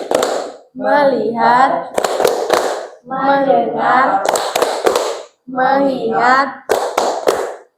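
Rhythmic group hand clapping in a 'tepuk fokus' ice-breaker, with sharp bursts of claps alternating with children's voices chanting in unison, loud and close.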